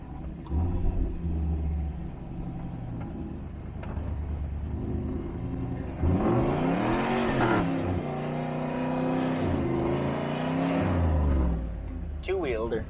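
A car climbing a rough hill on street tires, its engine rumbling steadily then rising in a strained, revving surge midway, with a voice heard over it.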